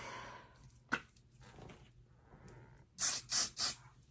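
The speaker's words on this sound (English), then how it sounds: "You take your freeze spray" Three quick, sharp hissing bursts from an aerosol can of freeze hair spray, close and loud, after a stretch of quiet shuffling.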